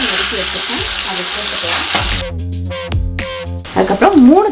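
Mustard seeds and urad dal fry in hot oil, giving a steady broad sizzle for the first half before sharper crackles and stirring noises break through, with a voice speaking briefly near the end.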